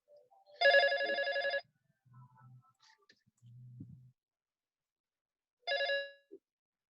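A telephone rings in two separate bursts with a pause between them, loud and clear in an otherwise quiet room, with a few faint low clicks and bumps in the gap.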